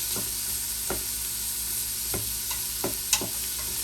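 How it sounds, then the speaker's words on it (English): Quinoa and bean chili frying and sizzling in a pot under a steady hiss, with a spoon stirring and scraping in several separate clicks and knocks through the clip, close and moderately loud, and no voices. "Get another stir."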